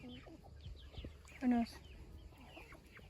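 Chickens clucking in a backyard garden, soft intermittent clucks close by, with a brief louder squawk partway through, under light talk.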